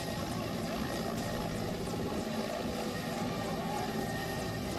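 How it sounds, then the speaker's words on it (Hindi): An army rescue helicopter hovers over a flooded, swollen river, its rotor and engine drone steady and continuous, somewhat distant and mixed with rushing water. "रेस्क्यू के लिए हेलीकॉप्टर"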